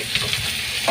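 Crab pieces sizzle and fry steadily in a hot pan, a close, continuous crackling hiss with a faint stir or scrape in the background.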